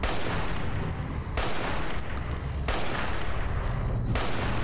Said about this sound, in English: Can we shoot you in the face?